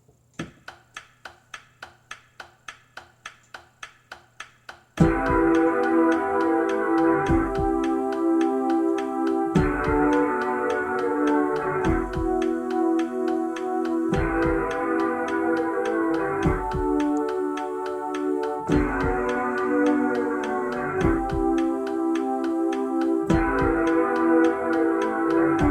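A thumping sample loop from a song plays on a Korg Kronos keyboard, repeating in a steady rhythm of dense, loud pulses. A few faint, ticking taps come first.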